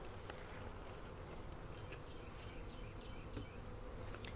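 Package honey bees buzzing around an open hive box during an inspection, a steady close-up hum with a few louder individual buzzes passing near.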